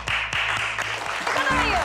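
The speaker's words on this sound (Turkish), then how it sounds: "Hadi alkışlayalım." A theatre audience breaks into brief, dense applause, heard alongside music and a voice.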